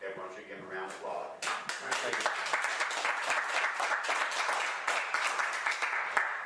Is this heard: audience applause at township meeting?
yes